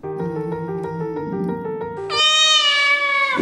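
A cat meows loudly and close, a drawn-out rising cry following a lower, steadier tone, heard on its own without talk.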